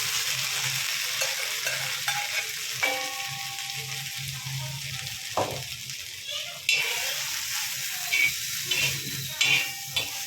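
A spoon stirs chickpeas with ginger-garlic paste in a sizzling pan, scraping through with steady frying crackle and occasional clinks against the metal.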